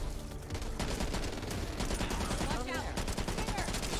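Rapid automatic gunfire from a gun in the video game Back 4 Blood, a dense continuous burst of shots that fills the whole stretch, loud and close.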